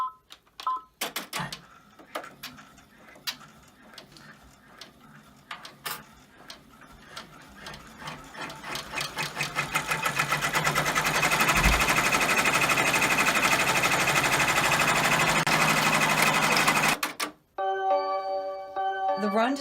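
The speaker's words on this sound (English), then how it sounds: "Remember, never put your fingers in the machine while it's stitching." An embroidery machine stitches fabric held in the hoop for an in-the-hoop tuxedo wine bottle apron. Its rapid needle chatter starts faint and sparse, then builds into a loud, continuous close whir before stopping abruptly. A short electronic beep sequence follows.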